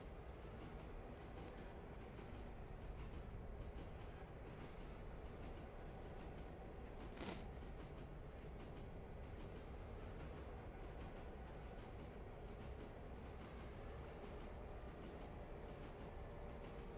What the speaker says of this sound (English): push this train to Topton